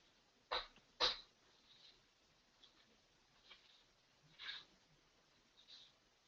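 Two short, sharp coughs near the start, followed by a few faint scattered bursts against a quiet background.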